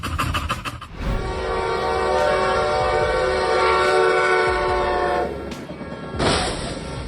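A train nears a level crossing and blasts its horn in one long sustained chord, preceded by a few sharp rattling clacks, then fading before a brief higher tone returns at the end; loud and close.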